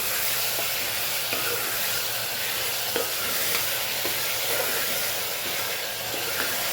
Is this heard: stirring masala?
yes